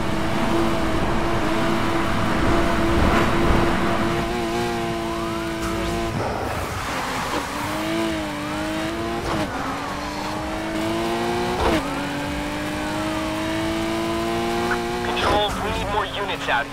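Police sirens wail and car engines rev and roar during a high-speed chase in the Need for Speed Heat racing game, with radio chatter and talk over the continuous engine and siren noise.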